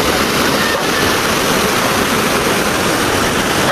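Strong river current rushing in Bukidnon, a loud, steady roar of churning water filling the whole span without pause, close and continuous with no voices over it.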